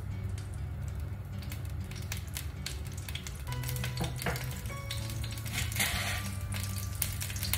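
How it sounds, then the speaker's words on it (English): Ginger garlic paste fries in hot oil with a steady, dense sizzle that continues alone throughout, with a few faint clinks and stirring scrapes near the end. "We're going to fry that for a little bit until that raw taste and that raw smell is gone"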